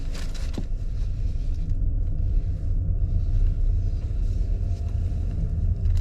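A 2021 Mazda 3 turbo (250 hp, premium 91 octane) accelerates hard in sport mode with paddle-shifted gears, heard from inside as a steady low engine rumble and road roar with no voices.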